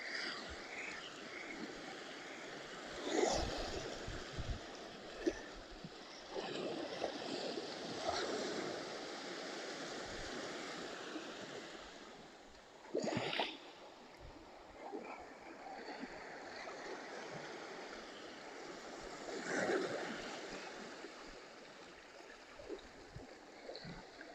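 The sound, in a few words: sound of water, waves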